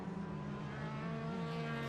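A black Toyota race car laps the Sebring circuit during an SVRA vintage race, its engine a steady, fairly distant drone with no voices over it.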